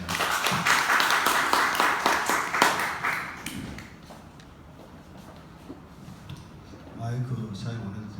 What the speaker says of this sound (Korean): 우리 유우종 회장님을 박수로 모시도록 하겠습니다.